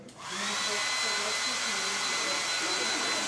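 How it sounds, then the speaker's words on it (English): A hair dryer blows steadily on wet watercolor paper, a close, even whooshing roar that starts up and holds for a few seconds. "Also, hair dryer."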